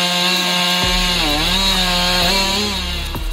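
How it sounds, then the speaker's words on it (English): A Husqvarna 550 Mark II chainsaw runs loud and close during a tree removal, its high engine whine steady with a few rising revs, short dips and sharp cuts as it bites into wood. "Husqvarna 550 Mark II. Awesome saw."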